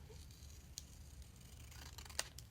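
Scissors snip a sliver off paper for a grid notebook collage: a few faint, quiet cuts and rustles over a low room hum, with no talking.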